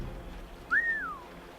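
A single clear whistle in the video game Assassin's Creed Rogue rises then slowly glides downward, standing alone over a quiet, faint background.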